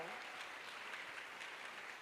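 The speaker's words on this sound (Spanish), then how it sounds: "Dele palmas al Señor" A church congregation clapping during a Spanish-language anniversary service, steady broadband applause heard at moderate distance with talk mixed in.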